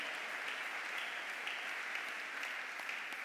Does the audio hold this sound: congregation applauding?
yes